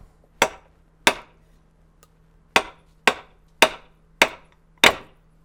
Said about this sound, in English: grab the blade using either a thick glove or a rag, and then hit the handle onto a workbench